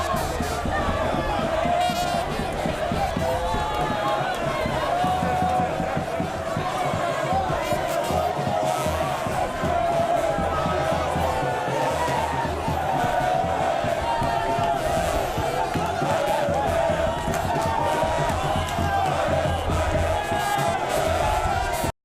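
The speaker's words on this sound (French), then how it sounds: "Le long du parcours, ce sont des cris de joie qui se mêlent aux applaudissements" A large outdoor crowd lining the route of a presidential motorcade in the Mboukou neighbourhood cheers, shouts with joy and claps continuously, a loud and dense wash of voices and applause throughout.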